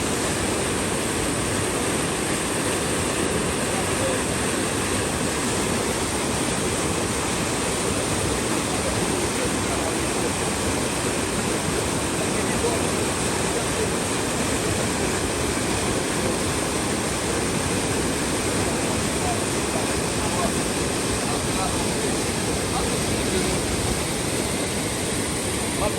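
Floodwater of the Massacre river, swollen enough to break a Dominican dam and spill toward a canal, rushes in a steady, loud, unbroken roar that fills the whole span without pause.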